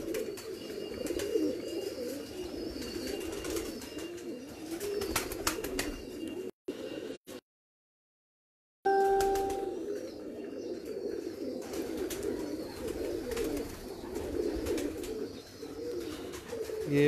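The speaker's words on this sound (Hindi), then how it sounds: "ये माशाल्लाह जी मेरा 22 साल का कबूतर है, यानी कि 22 साल से ये मेरे पास है अल्हम्दुलिल्लाह।" Pigeons coo steadily and continuously in a breeder's loft, a dense low murmur of many birds close by, broken by a short silent gap partway through.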